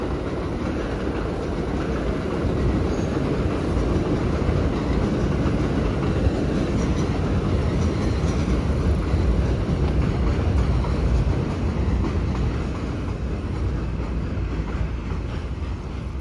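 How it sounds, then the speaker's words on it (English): A loud, steady rumble of a train passing nearby on a street in the Bronx, New York, broadband and continuous, with faint rattling throughout. "You can hear the train going by."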